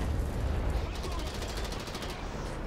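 Rapid machine gun fire from a World War II tank battle in War Thunder, a quick rattling string of shots over low engine rumble.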